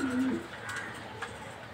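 A female Maxi Racer pigeon coos once, a soft low burst near the start, then quiet indoor ambience follows.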